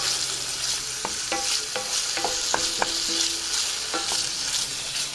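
Steady breakfast burrito filling sizzling in a frying pan, with occasional clinks and scrapes of stirring over the constant hiss.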